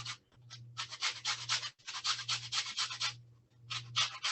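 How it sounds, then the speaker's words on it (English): Orange zest being ground down with a hand grinder for Melomakarona honey cookies: a steady run of rough, scratchy rubbing strokes in quick bursts with brief pauses, close and fairly quiet. "I have my grinder here and I'm gonna grind it down"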